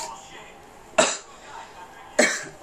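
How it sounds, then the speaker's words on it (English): Two sharp, close coughs go straight into a microphone about a second apart, each a loud burst that trails off, with quiet room tone between them. "So I'm coughing on the mic."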